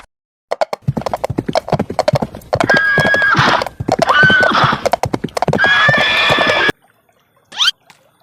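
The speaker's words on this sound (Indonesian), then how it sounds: "mari kita dengarkan suaranya kuda" Hooves clip-clop in a quick, steady rhythm, broken by several loud, drawn-out whinnies, then a short silence and one last brief neigh.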